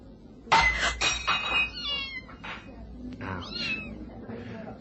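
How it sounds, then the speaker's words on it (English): In a neighbor's garden, a thrown bottle's brief clink gives way to a cat's loud, drawn-out meows and yowls, fairly close, followed by a few quieter cries. "Mrs. Blanchard's going to be real upset when she finds one of her cats has hit the bottle"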